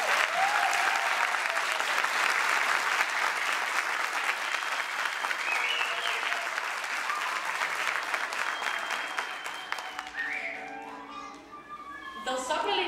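An audience applauds ballerinas after a dance recital with loud, sustained clapping that gradually thins and fades, while children's voices chatter near the end.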